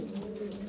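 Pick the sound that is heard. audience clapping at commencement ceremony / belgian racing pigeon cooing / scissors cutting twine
belgian racing pigeon cooing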